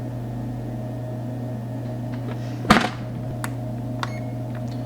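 A Chickcozy egg incubator switching on, a single short clunk followed by a steady low hum with faint clicks and ticks as it runs alone in a quiet room.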